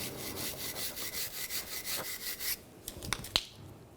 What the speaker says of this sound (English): I'm just going to use a wire brush. Just clean up some of that corrosion.